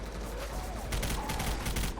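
Rapid gunfire in the zombie shooter Left 4 Dead 2 during the Swamp Fever campaign, a dense steady burst of shots lasting the whole moment, loud and close.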